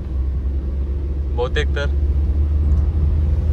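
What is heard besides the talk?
car being driven on a road trip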